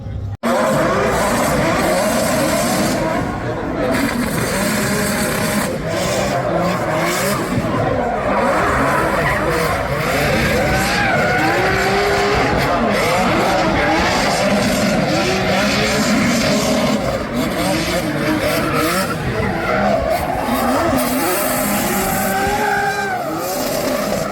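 Formula Drift cars battle in a drifting competition, with loud sustained engine roar and screeching tires that never let up, and faint voices beneath the noise.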